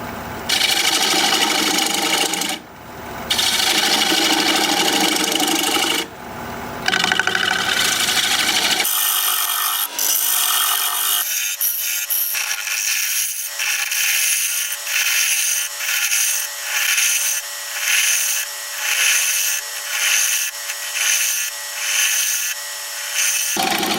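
A wood lathe spins a red cedar bowl blank while a gouge cuts, giving a loud, continuous whirring hiss broken by brief pauses, then a steadier, higher hum with rhythmic pulsing as the speed rises.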